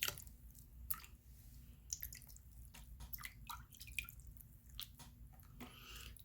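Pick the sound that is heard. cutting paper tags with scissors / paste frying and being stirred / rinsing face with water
rinsing face with water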